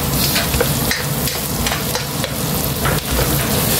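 White onion sizzling in melted butter in a pan, a loud steady crackling fry close to the mic with faint stirring taps.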